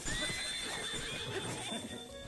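Horses in a Zelda video game neigh and whinny over clip-clopping hooves, several high whinnies rising and falling close by amid game ambience, with no talk.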